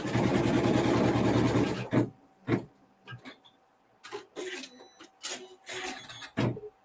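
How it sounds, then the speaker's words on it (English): A sewing machine stitching down a tack on fabric runs as a steady, close mechanical whir for about two seconds, then stops; scattered clicks and short handling noises follow. "let's sew that tack down. And then while it's sewing"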